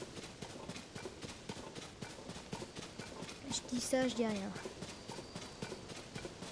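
A horse's hooves clip-clopping in a rapid, even rhythm while riding through Zelda: Tears of the Kingdom, faint and continuous under someone speaking French, with a brief brighter in-game flourish midway.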